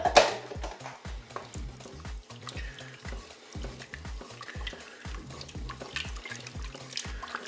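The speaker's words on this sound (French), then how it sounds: "vais maintenant ajouter ma crème fraîche. Je vais mélanger." Crème fraîche being stirred into a hot dish, a steady run of wet, sloshing spoon strokes with soft clinks against the pan, close and moderately quiet, with no talking.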